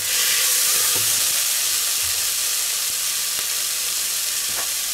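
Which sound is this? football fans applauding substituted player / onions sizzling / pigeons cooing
onions sizzling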